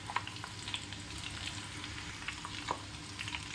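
Homemade hair oil being stirred with amla, rose petals, a hibiscus flower and leaves, fenugreek and black cumin, giving a steady soft sizzle with light scraping and a few small clinks, close and fairly quiet.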